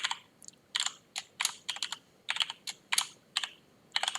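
Computer keyboard keys being typed while entering a terminal command, about a dozen short clicky bursts in quick uneven clusters, close and clear with no talking.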